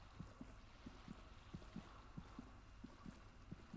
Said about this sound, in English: That swimming sound sounds a lot like a heartbeat